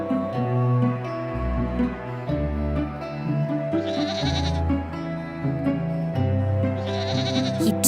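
Bleating goats fill a children's bedtime story about a wolf and seven young goats: repeated wavering bleats, loud and close, play over a gentle melodic music bed with no talking.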